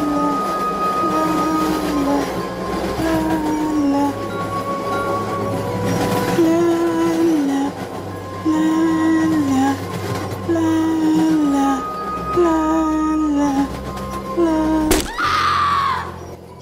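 A passenger train runs along the tracks with a loud, continuous rumble and rhythmic clatter, and a sharp screech or horn-like burst near the end.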